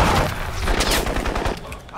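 Heavy gunfire in the video game Crysis, a tight burst of loud overlapping shots and impacts that fills the whole stretch without talk.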